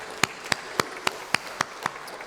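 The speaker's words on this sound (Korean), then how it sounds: "우리 하나님께 영광의 박수를 올려드리겠습니다" Church congregation clapping in unison during a revival service, eight sharp evenly spaced claps in a steady rhythm, each one distinct, with quiet between them.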